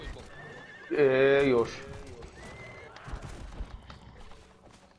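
A horse in the video game Conan Exiles gives a loud, sharp whinny lasting under a second, followed by soft hoof sounds as players chat over it.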